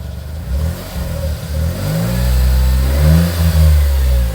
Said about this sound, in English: I'm just going to blip the pedal.